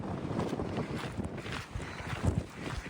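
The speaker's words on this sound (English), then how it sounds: "It is so windy." Strong wind gusts buffet the microphone on the exposed Franconia Ridge of the Appalachian Trail, a loud, rumbling roar that swells and eases in uneven surges with no voices.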